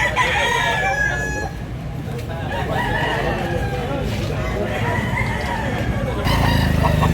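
A rooster crows repeatedly among clucking chickens at an outdoor poultry sale in Consolacion, North Cebu, with background chatter and occasional vehicle noise.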